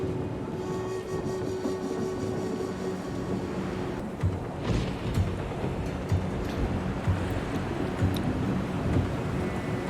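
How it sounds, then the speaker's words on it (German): A heavy thunderstorm in the survival game AWAY: The Survival Series, a continuous loud rumble of rain and wind with low thunder rolling through, steady throughout. "Ist auch gerade ein heftiges Unwetter"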